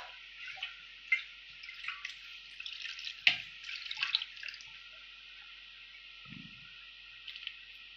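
Water splashing and dripping as it is poured over fish pieces in a tamarind-based fish curry, a few distinct close splashes and drips against a quiet background.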